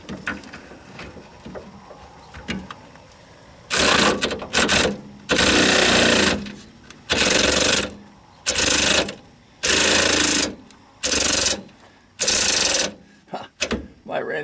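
A cordless wrench works on the shock absorbers of a 1997 GMC Savana van, with about six loud buzzing bursts separated by short pauses, following quieter background noise.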